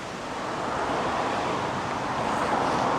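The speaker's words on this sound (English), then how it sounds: "it's very windy today" Strong gusting wind roars steadily across an open farmhouse campsite in Sussex, a loud broadband rush buffeting the microphone for the full stretch with no voices.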